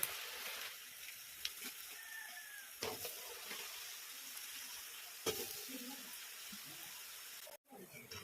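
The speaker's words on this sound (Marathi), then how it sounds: "हे पहा आता आपलं भाजणीचं पीठ तळण्यासाठी टाकलेलं आहे" Chakli made from bhajani flour dough frying in hot oil, a soft steady sizzle and hiss with occasional light clinks and stirring knocks, quiet and close throughout.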